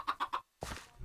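A chicken in a Minecraft skyblock game giving three quick close clucks, followed by a short silence and a longer, rougher squawk.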